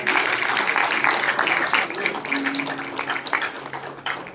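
Audience applause at an evening devotional program honoring Shree Ram with Shree Hari Ji Maharaj, a steady wash of clapping from a gathered crowd that thins slightly toward the end, with faint voices mixed underneath.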